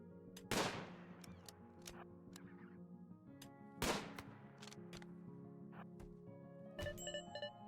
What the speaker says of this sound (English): If we draft, he will still continue to shoot.